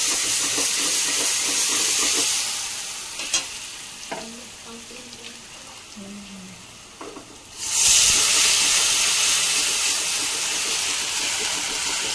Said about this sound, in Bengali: এই যে এখন বেসন আর দইটা ফেটানো ছিল সবকিছু দিয়ে, ওটা এখন দিয়ে দিচ্ছি তেলে।